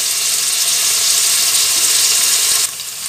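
Onions and an aromatic mixture fry in a pan for a Congolese purslane dish, giving a loud, steady close-up sizzle with a constant hiss that eases slightly just before the end. No one speaks.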